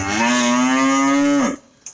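A single cow lets out one long, loud, close moo lasting about a second and a half, heard on a farm among a small group of cows, with a brief faint noise after it ends.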